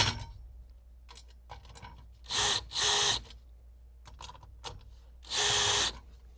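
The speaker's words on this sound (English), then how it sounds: "Secure the pickets by tightening the screws into both the top and bottom rails with the drill" Three short bursts of a power drill driving screws into aluminum railing, each lasting about half a second, with quieter clicks and handling noises in between.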